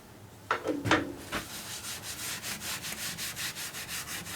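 Wood being polished on a lathe with Yorkshire Grit abrasive paste: a soft, steady rubbing hiss with a few sharper scuffs at the start, then even rhythmic strokes, close and fairly quiet with no talking.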